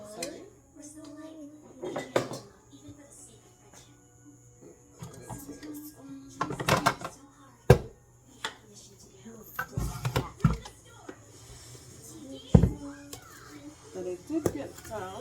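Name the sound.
spooning cookie dough onto a baking pan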